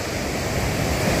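Sea waves wash steadily onto the shore at Thattanthura beach on an evening seashore, a close, continuous roar of surf with no breaks and no voices.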